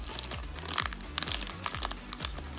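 Japanese trading card booster packs are torn open by hand, with close crinkling and crackling foil wrappers, sharp tearing bursts and rustling handling in quick irregular clusters.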